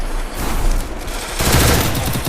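Rapid bursts of gunfire from the battle royale game Free Fire, loud and close, with a sharper, denser volley in the second half.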